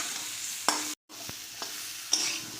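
Fried cauliflower pieces are stirred and sautéed in a pan over a soft steady sizzle, with a few sharp scraping clinks and a brief moment of silence partway through.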